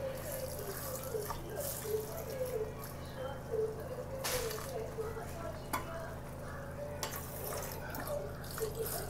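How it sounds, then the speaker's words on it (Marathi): Water splashes and trickles over sugar spread in a pan, with wet dripping, light sloshing and a few sharp utensil clicks heard up close at moderate volume, no voices. "साखर बुडेल इतकं पाणी ओतून झालेलं आहे."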